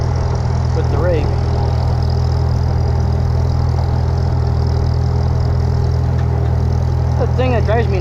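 A Farmall tractor pulling a hay rake down a hillside, its engine droning loud and steady throughout, with a few faint squeaky mechanical chirps over the engine noise.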